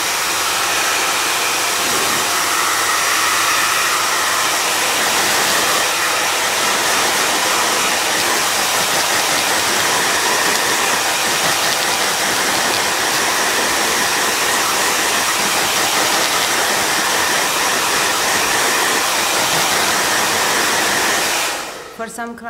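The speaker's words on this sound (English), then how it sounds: "With a little bit of heat, you can also take this off, which you can use your blow dryer." A blow dryer roars steadily at full power, a constant loud whoosh that cuts off abruptly near the end.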